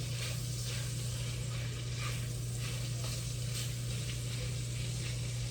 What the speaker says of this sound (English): The sausage is browning up nicely, rendering enough fat for me.